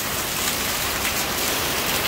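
Heavy rain during Typhoon Paeng in Rizal, a dense, loud, continuous downpour hissing and pattering on surfaces, with no voices.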